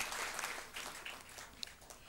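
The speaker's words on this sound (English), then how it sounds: "Give them a clap of hands to glorify God for what they have done." An audience at a large Gideon convention in Mumbai claps together, a soft, distant wash of applause that holds steady for about two seconds.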